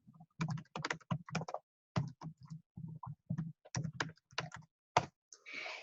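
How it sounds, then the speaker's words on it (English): Keystrokes tapping out a website link on a computer keyboard, arriving in quick irregular bursts separated by short pauses, close and fairly quiet. "Let me type that in right now."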